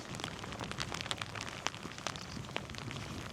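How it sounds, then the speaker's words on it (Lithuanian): Light rain falls outdoors in Šiauliai, Lithuania, a constant patter with scattered sharper drops and taps standing out near the listener, moderately loud with no voices. "Lyja, dar ne taip stiprai, bet manau, kad bus."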